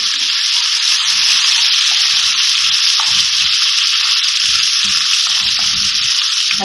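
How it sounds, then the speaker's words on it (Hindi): A loud, continuous sizzle of garlic ginger paste frying in a pan, with soft scraping and stirring sounds underneath. "लहसुन अदरक डाल के मैंने थोड़ा सा भून लिया है।"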